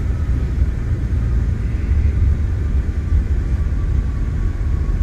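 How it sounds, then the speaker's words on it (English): Deep, steady roar of a CRJ 900 regional jet's thrust reversers during landing rollout in Microsoft Flight Simulator 2020, a constant loud rumble heavy in the low end that holds evenly throughout with no talk. "All right, reversers are out."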